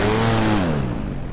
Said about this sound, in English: the most prominent defining thing about this power plant, is the instant throttle response